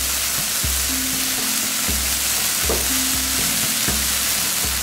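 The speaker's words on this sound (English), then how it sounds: "You don't have to fry them too much." Peacock meat frying in a pan, a loud continuous sizzle with periodic scraping thumps from stirring, close and without talk.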